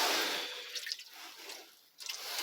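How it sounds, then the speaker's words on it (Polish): Water poured in a thin trickle during evening chores for rabbits, a faint splashing and dribbling that fades and resumes, close by and alone without speech. "Trzeba wody nalać, no nie wiem czy starczy na ten obrządek."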